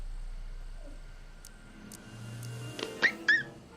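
Short whimpering and yelping dog cries from the Back to the Future video game, where a dog is stranded on a courthouse roof; a couple of thin, high whines come near the end over low background sound.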